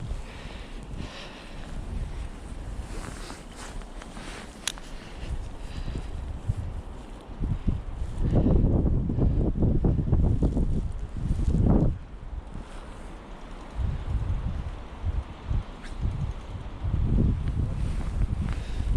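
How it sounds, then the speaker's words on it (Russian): Gusty winter wind buffets the microphone in rough low rumbles during ice fishing, swelling strongly in the middle and easing again, with no voices. "Да, ветер сегодня сильный."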